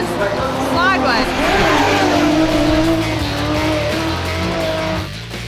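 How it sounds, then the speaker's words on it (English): Drift cars slide sideways through a fast corner at Pukekohe Raceway, engines roaring loudly at high revs while tires squeal and skid continuously, with a voice talking over the din. "These guys are entering that first corner at around 200 kilometres sideways."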